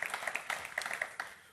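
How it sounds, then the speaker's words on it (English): Audience clapping at a Cloud Foundry Summit pancake breakfast, a quick burst of many hands with sharp overlapping claps that fades toward the end. "Let's give them a big round of applause."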